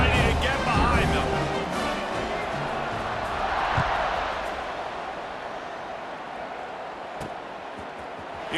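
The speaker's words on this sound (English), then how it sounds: "this crowd now ready to get behind them" Stadium crowd roars and cheers at a kickoff in EA Sports College Football 26, a broad sustained wash of noise swelling briefly mid-clip and then settling, with a commentator talking over it.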